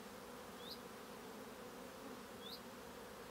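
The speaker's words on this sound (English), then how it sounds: "there's a lot of bees out foraging" Honeybees forage around apiary hives in a steady, quiet, continuous buzz, with two faint, brief chirps rising above the drone.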